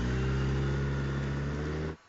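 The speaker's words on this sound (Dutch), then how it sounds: "Wel lekker je uitlaat, gast." A car's exhaust drones loud and close at a steady high rev, a deep sustained engine roar that cuts off abruptly near the end.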